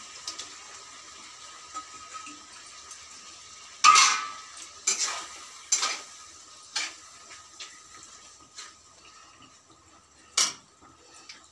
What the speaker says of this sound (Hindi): देखिए राजमा बना रही हूँ।